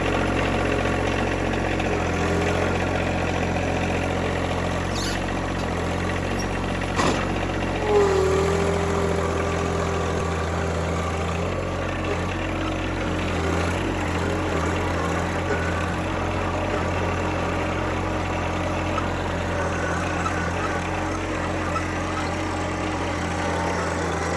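A sawmill engine drones steadily as an oak log is loaded for cutting into slabs. The even, close mechanical hum and vibration run the whole time with no talk.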